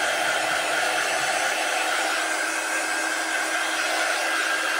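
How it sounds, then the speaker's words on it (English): A handheld heat tool blows steadily to dry chalk paste on a stencil design, a loud, even, continuous whoosh of airflow with no talking. "And this is our heat tool, and it's just gonna help speed up the drying process just a little bit."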